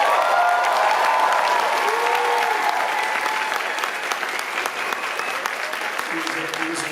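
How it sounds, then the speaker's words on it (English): Comic Con panel audience in New York breaks into loud, sustained applause with scattered cheers for the cast of The Expanse, filling the hall and slowly thinning out over several seconds. "Can we have a little round of applause for this amazing cast?"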